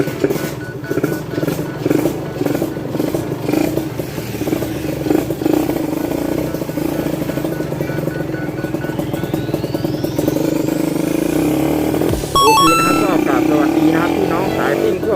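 A freshly rebuilt Honda LS125 motorcycle engine runs and revs during a test ride, a steady buzzing drone that rises in pitch with some rattling, while someone talks over it throughout.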